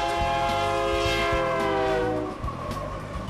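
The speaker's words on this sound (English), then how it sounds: "the rumble of freight trains" Freight trains rumble through Union Pacific's Bailey Yard in North Platte, a steady low roar with rhythmic wheel clatter and a sustained horn tone, loud and continuous throughout.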